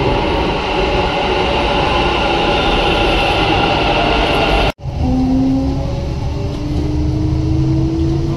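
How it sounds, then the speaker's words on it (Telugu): A Bangalore metro train rumbles steadily at an underground station platform, a loud continuous roar that cuts out for an instant and resumes with a faint rising whine, with no voices. "ప్లాట్ఫామ్ నెంబర్ 2లో ట్రైన్ అరైవల్ అవుతుంది మెట్రో స్టేషన్లో"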